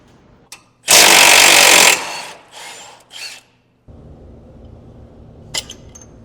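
Power tools work on truck coil-over cone bolts: a loud, sustained burst of whirring and rattling, then shorter hammering bursts and a lower steady mechanical hum, ending with light metallic clicks, close up with no speech.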